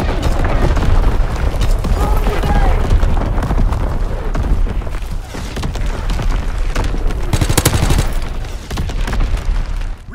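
Artillery fire and explosions boom and rumble loudly and continuously in the military video game Anthropoid, during a hardcore hardpoint match, with dense overlapping gunfire and blasts.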